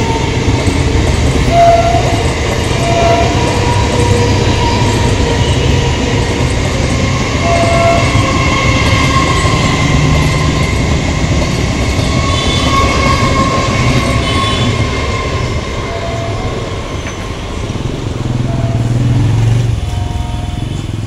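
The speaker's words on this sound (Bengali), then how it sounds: "31321 আপ শিয়ালদা কল্যাণী সীমান্ত লোকাল শ্যামনগর রেল স্টেশন ছেড়ে জগদ্দল রেল স্টেশনে যাচ্ছে।" A Sealdah–Kalyani Simanta local train pulls out of Shyamnagar railway station, a loud, continuous rumble and clatter of wheels on rails that holds steady for the whole stretch, with no talk.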